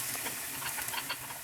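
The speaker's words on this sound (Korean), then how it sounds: "양파가 투명해질 때까지 볶아줄게요" Onion, mushrooms and garlic sauté in two tablespoons of olive oil over medium heat for cream pasta, giving a soft, hissing sizzle with small crackles, brief and without talk.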